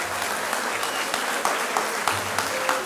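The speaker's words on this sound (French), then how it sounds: "Je voudrais qu'on vous applaudisse déjà maintenant" An audience at a speech for a sectoral competition gives steady, fairly dense applause at moderate volume, sustained without pause.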